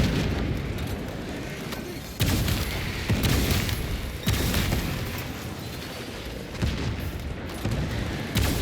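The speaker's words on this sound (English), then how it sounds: "Throwing shock grenade." Explosions and weapon fire boom repeatedly in Space Marine 2, with a shock grenade going off among several heavy blasts amid continuous rumbling combat noise.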